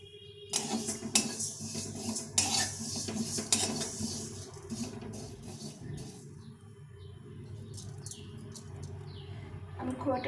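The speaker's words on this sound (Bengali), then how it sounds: "এই ডালটাকে একটু ভেজে নেব শুকনো খোলা ভেজে নেব এটা তেল দেবো না" Dal dry-roasted without oil in a pan, a spoon scraping and clinking against the metal in bursts, followed by quieter stirring with faint birdsong and a voice in the background.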